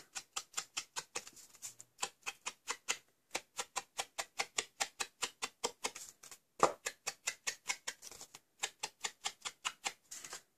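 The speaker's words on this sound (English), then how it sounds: "I'm just going to sponge around the outside." Rapid, soft dabbing taps repeat in a steady rhythm with a few brief pauses, close and dry, like a sponge patting paper.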